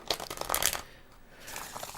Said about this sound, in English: Get you one good, nice, aerated shuffle here.